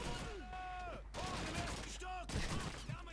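Dense gunfire from the World War II shooter Call of Duty 2, crackling bursts and rattling shots running continuously and fairly loud under voices talking throughout.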